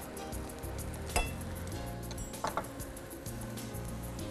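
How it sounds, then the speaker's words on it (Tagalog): Onions sautéing in butter or oil in a pan: a steady, fairly quiet sizzle runs throughout, with a sharp metallic clink near the start and a couple of soft utensil knocks midway. "we need to saute our vegetables naman. Butter or oil, pwede po."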